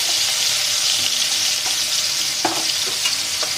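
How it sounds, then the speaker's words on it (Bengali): Spice paste of cumin, ginger, tomato and green chili fries in oil for an eggplant dish, giving a loud, continuous close-up sizzle with faint stirring scrapes and clicks. "তেল দেওয়ার পরে যে মশলাটা আমি রেখে রেখেছি সেটা দিয়ে দিলাম।"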